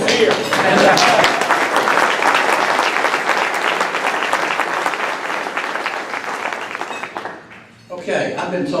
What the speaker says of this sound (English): I think you ought to give him a round of applause.